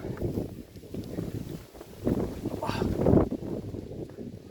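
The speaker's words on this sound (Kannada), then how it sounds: "ಜೋರಾದ ಗಾಳಿ" Strong gusts of wind buffet the microphone on Madhugiri hill fort in Tumakuru district, a loud, continuous low rumble that swells and peaks near the end.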